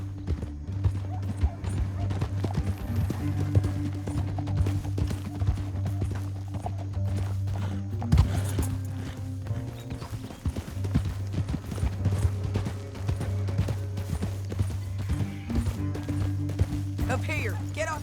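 Steady rhythmic clip-clop of horse hooves galloping in Red Dead Redemption 2, with occasional snorts, under continuous game music and voices talking.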